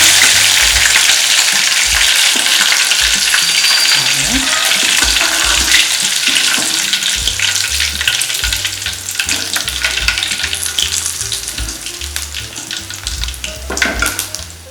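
Mutton pieces deep fry in hot oil with a loud, dense sizzle and crackle. Occasional stirring and clinking ring out, and faint voices sit underneath.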